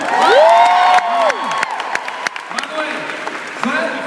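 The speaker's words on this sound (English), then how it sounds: "Smart audience, clap if you want the exciting one." A seminar audience applauds, with clapping swelling loudly and then tapering, mixed with cheers and whistles and some voices over it.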